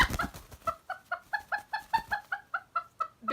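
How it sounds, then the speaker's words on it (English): Backyard chickens cluck close by in a steady rhythmic run of about a dozen short, evenly spaced calls, with a brief scuffle at the start. "I need to pet my chickens."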